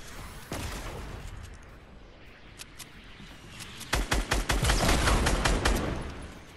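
Weapons and rockets fire during a Fortnite Battle Royale match, with scattered shots early on, then a dense burst of rapid gunfire and rocket blasts toward the end, loud and close.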